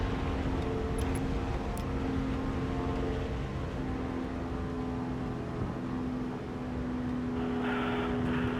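Propeller aircraft engines in the combat flight game Wings of Prey drone steadily, a continuous mid-loud hum with a sustained tonal line running the whole way through, and no talk over it.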